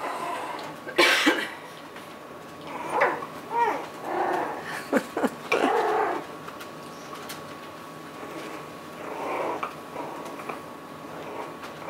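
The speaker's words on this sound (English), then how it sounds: "He barked so hard he fell over" A few sharp, high yaps from a small dog come in a short burst, with scattered softer yelps and rustling afterward.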